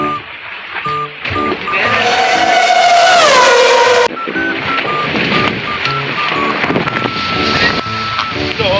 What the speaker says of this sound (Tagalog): kung makakaya ba ng saranggola namin yung ganito kalakas na hangin